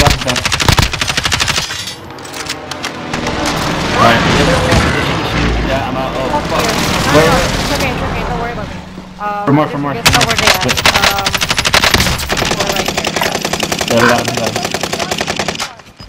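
Rapid automatic gunfire bursts and booming shots in Call of Duty: Modern Warfare, loud and dense, coming in repeated volleys with brief gaps, while players talk over the shooting.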